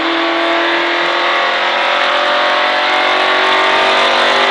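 A car engine revs up steadily under throttle during a driving lesson at a track called the Mickyard, a loud, sustained acceleration roar with no talk.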